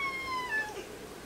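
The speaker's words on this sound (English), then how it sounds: "Hello cat." A cat meows close by in a workshop where battery leak damage on an electronics board is being repaired, one drawn-out, rising-then-falling meow heard on its own.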